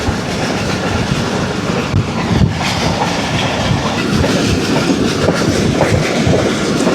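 Pak Business Express train racing at high speed through Bin Qasim railway station near Karachi, a loud, steady roar of wheels and carriages with rhythmic clickety-clack running throughout, no voices.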